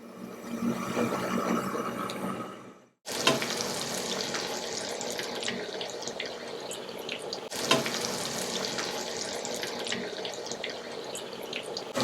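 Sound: paneer bajji frying in hot oil

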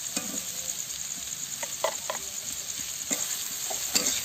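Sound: stirring bitter gourd and egg curry in a pan

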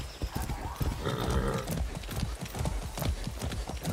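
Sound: horse galloping hooves in video game Far Cry 6

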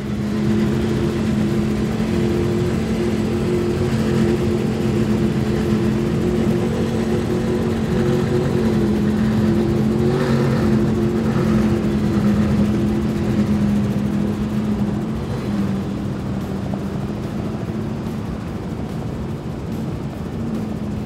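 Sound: Outer Limits SL50 powerboat with Mercury Racing 1550 outboards running

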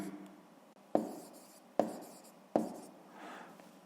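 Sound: writing by hand

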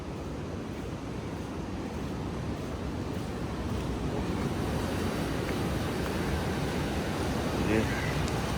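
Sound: waves at beach below Varkala cliff, Kerala

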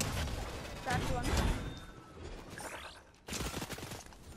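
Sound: gunfire in Fortnite video game

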